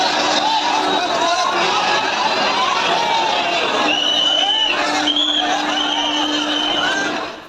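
A dense crowd packs the Surat railway station platform, many people carrying bags on their heads, a steady loud babble of many voices with scattered calls and whistles rising above it throughout.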